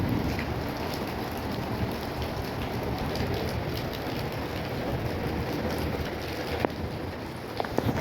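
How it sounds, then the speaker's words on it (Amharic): Steady rain pours outside during an Eid celebration, a continuous even hiss with no voices, with a couple of faint sharp ticks near the end. "እስኪ ዝናቡን ላሳያችሁ"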